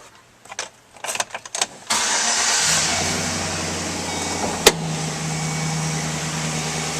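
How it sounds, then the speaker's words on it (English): A 2012 Chevrolet Silverado 1500 regular-cab 4WD work truck starting up: a few clicks and a brief crank, then the engine catches and settles into a loud, steady idle close by, with one sharp knock midway. "Now we'll start up this vehicle."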